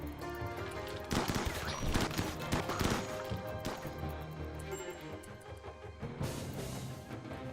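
Gunfire from colonists in RimWorld, with crackling shots and impacts in bursts over a dense bed of game music and effects, loud and busy throughout.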